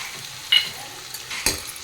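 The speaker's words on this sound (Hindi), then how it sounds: "अब इसको अच्छे से फ्राई कर लेती हूँ" Onion and tomato frying in a pan for kadhi give a soft, continuous sizzle, with a couple of brief scraping stirs standing out over the low crackle.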